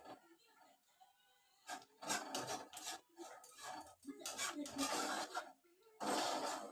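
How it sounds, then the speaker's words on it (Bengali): A spice mixture with water is stirred in a pan during cooking, producing bursts of wet rasping scrapes in uneven strokes, close and moderately loud, with faint talk in between. "এবার মিশিয়ে নিচ্ছি মশলাটা।"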